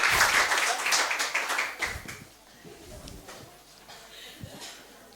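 A church congregation breaks into loud clapping and cheering at a worship service, dense and bright at first, then thinning into scattered claps and murmurs after a couple of seconds.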